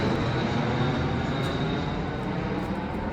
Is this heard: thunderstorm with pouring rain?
no